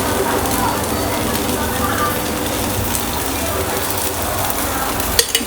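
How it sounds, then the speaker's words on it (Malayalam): Ragi neer dosa sizzles in ghee on a hot pan, a steady close frying hiss throughout with faint stirring or utensil clinks near the end. "ഈ ഹോളിൽ കൂടെ കുറച്ച് ഓയിൽ അല്ലെങ്കിൽ നെയ്യ്, ഞാനിപ്പോൾ നെയ്യാണ് ഇട്ട് കൊടുക്കണേ."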